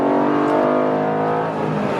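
A 2013 Ford Mustang Boss 302 accelerates hard in third gear, its engine roaring loud and close in a steady, rising pull across the whole moment.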